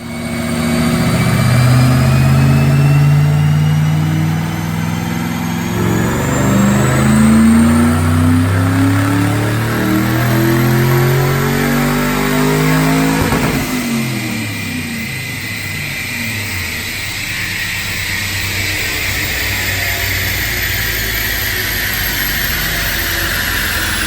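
A loud, powerful engine of a 2006 Mustang with a Paxton supercharger revs hard on a dyno to 6,500 RPM, climbing steadily in pitch, then drops off abruptly and settles into a steady roar with whine; no talking.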